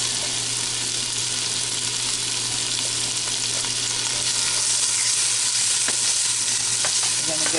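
Onions sautéing in a hot pan for spaghetti and meatballs give a dense, steady hiss of frying with faint crackles throughout, close and continuous without any voices.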